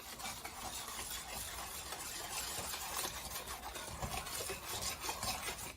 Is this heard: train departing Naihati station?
no